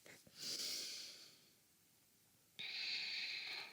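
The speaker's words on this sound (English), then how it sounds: "Take a breath." Slow breaths during a standing yoga forward fold, one long airy exhale and then another starting, soft and close, with no speech.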